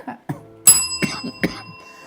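A person indoors gives a series of short, sharp coughs close to the microphone, about five bursts spaced irregularly over two seconds with quiet gaps between them.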